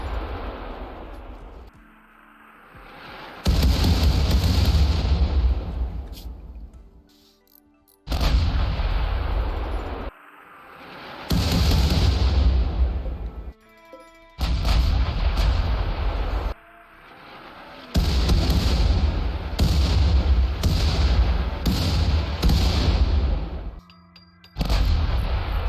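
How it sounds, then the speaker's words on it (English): Artillery barrage in the video game RimWorld: repeated heavy booming blasts in long rolling bursts, each lasting several seconds, separated by brief quiet gaps, loud and close with no talking. "Napoleon decided to soften them up with artillery."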